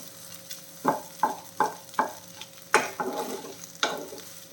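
Okra and egg stir-fry tossed in a pan, with about seven rhythmic scraping strokes of a spatula over a low sizzle, close up and with no talking.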